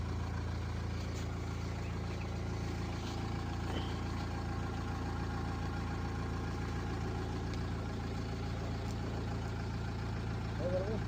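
A car engine hums low and steady as a learner driver eases slowly out of a parking spot, a constant near rumble with no revving throughout.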